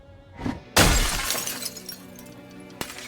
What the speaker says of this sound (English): Make sure to be smashing a window and removing glass with the appropriate tool in your hand